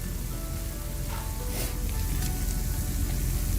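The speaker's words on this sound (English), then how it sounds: "we're going to add our dried red chilies with the seeds" Dried red chilies with their seeds hit a hot pot and sizzle loudly, a dense, even frying hiss that continues without a break, with no talking.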